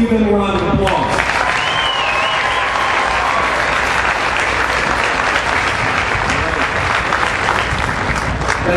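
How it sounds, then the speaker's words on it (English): Applause for Gold Star families in the audience at an evening event: full, loud clapping from a large crowd rolls on steadily, with a voice briefly heard over it at the very start. "please let's give them a round of applause."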